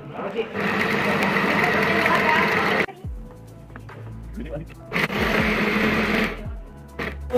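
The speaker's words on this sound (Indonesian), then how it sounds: "Dagingnya tuh digiring menggunakan blender ya." An electric blender whirs while processing carp fish meat, running in two loud bursts of a few seconds each, separated by a quieter gap with faint knocks and handling sounds.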